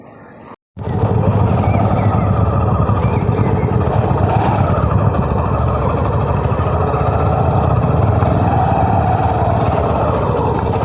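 Five motorcycles idle together in a steady rumbling chug, loud and close, continuing unbroken after a brief cut at the start.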